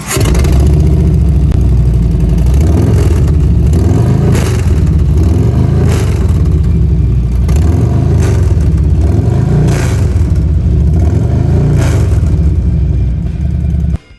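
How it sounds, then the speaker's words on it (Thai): A 2022 Harley-Davidson Street Glide Special 114 motorcycle engine with a full exhaust revs hard over and over in steady swells, loud and close, with a deep rumbling idle between each throttle blip. "มาฟังเสียงเครื่องยนต์กันหน่อยครับ"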